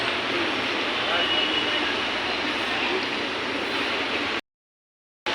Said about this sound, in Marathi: मी वर्सावा स्टेशनला उतरलेले आहे आणि बघा मेट्रो